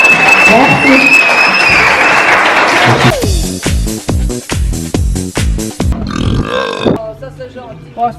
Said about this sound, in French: Et vous pouvez les encourager, les applaudissants aussi quand même.